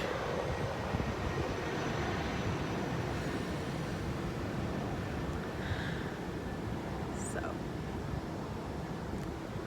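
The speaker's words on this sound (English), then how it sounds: "One moment for the airplane." An airplane passes overhead, a faint, distant broadband rumble that holds steady across the stretch with little change.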